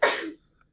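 A single sharp human sneeze bursts out loud and close, fading within about a third of a second and followed by quiet.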